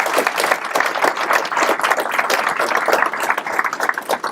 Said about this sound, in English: I'd ask you to give one more big round of applause to Debbie Moody